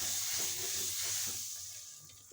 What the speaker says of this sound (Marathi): आपण आता तवा गरम करून घेतला आहे, त्याच्यावर असं बटर लावून घेतलं आहे.